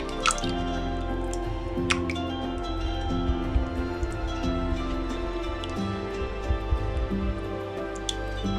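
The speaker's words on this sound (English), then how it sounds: "Right, add the melted butter." Melted butter poured into carrot loaf cake mixture gives soft, wet dripping and squishing sounds close by, over a steady low background hum.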